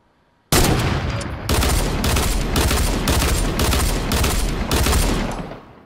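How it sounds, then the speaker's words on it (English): Dense, continuous gunfire from Fortnite, a video game: loud, sustained bursts of rapid shots with a rhythmic pulsing, starting abruptly after a brief silence and running to the end. "I shot him and killed him"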